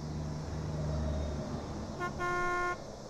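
In American Truck Simulator, a low engine drone gives way to a truck horn: a quick short toot followed by a longer sustained honk, loud and close, with no voices.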